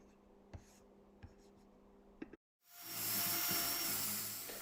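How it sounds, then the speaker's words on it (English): After a quiet stretch of faint taps and clicks, a drill fitted with a wire brush starts up, loud and close, scrubbing roe deer antlers clean with a harsh, steady whirring grind. "I decided to just give them a clean off with a wire brush and a drill attachment"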